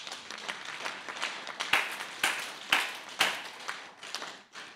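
A church congregation claps and applauds together, a dense patter of many hands with a few sharper, louder claps standing out, steady and fairly close throughout.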